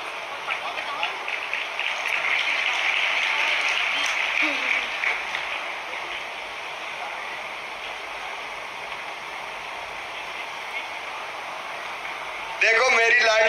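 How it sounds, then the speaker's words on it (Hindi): Sustained audience applause at a Ladli Laxmi Utsav 2023 ceremony in Madhya Pradesh honoring girls' achievements: dense, steady clapping from a large crowd, fairly loud and even throughout, with a brief louder burst at the very end. "ताली बजाओ जोर से।"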